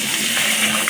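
Water splashes into a wok set on the stove for veg chowmein, a short, steady gushing pour close by with no voices.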